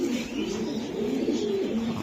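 A racing pigeon coos close by, a low throaty burbling call repeated in soft rolling phrases over a quiet background with no talking.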